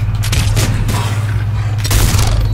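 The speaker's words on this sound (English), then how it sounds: "Gotta get some target practice with this big hand cannon." Heavy gunfire from a hand cannon in Mass Effect 3 comes through as loud, dense repeated booms and cracks amid ongoing battle noise and low rumble, with no voices.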